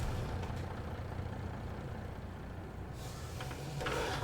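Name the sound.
truck in video game Farming Simulator 22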